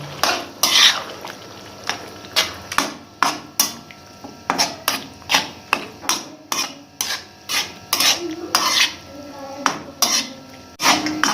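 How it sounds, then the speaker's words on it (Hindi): A spoon scrapes and clinks against the pot while 200 grams of yogurt is mixed into chicken karahi keema, the strokes falling in a steady rhythm, close and fairly loud, with no talk. "अब इसे मिक्स करेंगे।"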